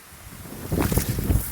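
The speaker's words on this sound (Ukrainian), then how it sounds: "вітер дме" Wind gusts buffet the microphone in rough, swelling rumbles that grow louder after a quieter start.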